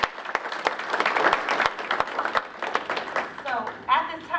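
An audience at a community police commission public meeting applauds, with sharp individual claps over a broad bed of clapping and a voice briefly heard as the applause tapers off near the end.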